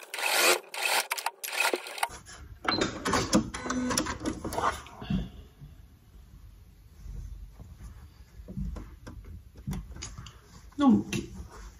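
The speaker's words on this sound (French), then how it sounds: "j'ai cousu au bord de mon surjet tout au long de ma poche" An overlock sewing machine stitches along the edge of a pocket, its steady mechanical whir running in bursts with short pauses, while a person talks over part of it.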